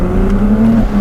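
Ferrari 296 GTS fitted with a Novitec exhaust system and tuned turbo inlets, its engine holding a loud, close, steady droning note that rises slightly, with no voices.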